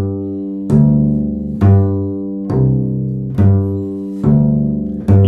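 Open strings on a bass guitar are plucked without muting, five deep notes struck about once a second, each ringing on and overlapping the next, loud and close with no talk.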